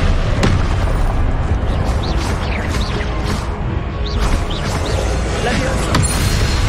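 Confringo fire spell in Hogwarts Legacy, loud fiery blasts and booming impacts crashing over a dense, continuous roar of game action with a voice in the mix.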